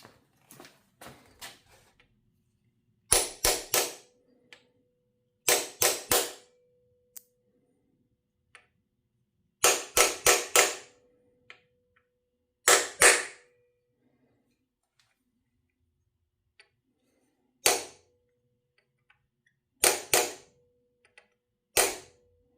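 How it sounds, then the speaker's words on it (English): Sharp strikes of a bigger hammer fastening parts on a 1939 Graham six-cylinder engine block come in quick bursts of two to four blows, separated by pauses, loud and close against a quiet background. "I'm going to switch to a bigger hammer to finish them."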